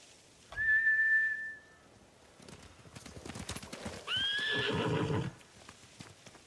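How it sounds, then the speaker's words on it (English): Horses in the Ghost of Tsushima video game whinny and neigh in two loud bursts, with hoof clip-clop between them, close by and without talk. "Bastards scared off the horses."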